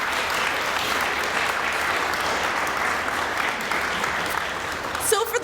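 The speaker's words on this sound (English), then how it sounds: "I'd like to start with a really hearty round of applause for those of you who are in the room today" A room full of people gives a hearty round of applause at a Laurier Athletics ceremony honouring Academic All-Canadians, dense steady clapping throughout that ends abruptly with a clatter.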